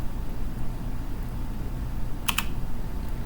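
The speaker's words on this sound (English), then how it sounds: "I'm going to type in" A quick pair of keystrokes on a computer keyboard during an Alpine Linux install, short and crisp over a steady background hiss.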